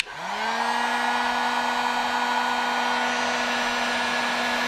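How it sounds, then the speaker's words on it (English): Heat gun blowing hot air onto heat shrink tubing during battery wiring on a school bus conversion, a steady loud whooshing hum that spins up and then holds constant, close by, alone. "Take a heat gun."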